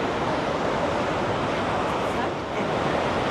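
Epupa Falls on the Kunene River roars as a steady, dense wash of falling water, loud and continuous throughout with no breaks.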